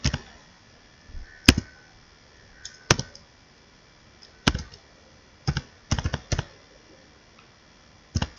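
Scattered keystrokes on a computer keyboard while code is typed in a JavaScript editor: sharp, close clicks in irregular bursts separated by quiet pauses.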